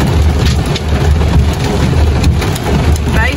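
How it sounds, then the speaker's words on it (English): A severe hailstorm with hailstones reported near baseball size, a loud dense continuous clatter and drumming on surfaces that fills the whole clip, with scattered sharper impacts. "Baseball size hail is what they're saying."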